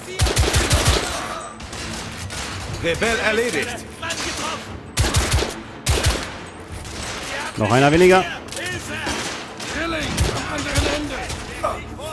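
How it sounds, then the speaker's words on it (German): Gunfire from the video game The Order: 1886 comes in sharp repeated bursts, with machine-gun volleys and pump-shotgun blasts loaded with incendiary ammo, under frequent excited talk. "Der hat so Brandmunition in seiner Pumpgun drin, ey."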